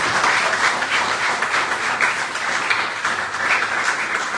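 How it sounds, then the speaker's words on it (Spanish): A church congregation applauds together in a steady, dense burst of clapping that fills the room evenly from start to finish, with no speech over it. "Vamos a dar un fuerte aplauso al Señor."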